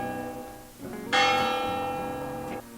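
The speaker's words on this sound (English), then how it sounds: "The rope rang the big bell right under Mrs. Bird's nest." A big church bell rung by a pulled rope strikes once with a bright, ringing tone that hangs and slowly decays, preceded by a softer lower hum, with no talking.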